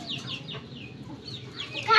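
Chickens cluck and squawk nearby in a short, repeated series of calls over low background noise.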